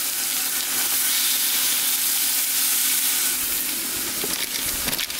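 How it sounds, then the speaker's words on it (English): Meat frying in heated canola oil in a pan for Mexican spaghetti, a steady, loud sizzle and hiss that fills the whole stretch, with a few crackles and stirring sounds near the end. "When you put the food in and you hear that sizzle"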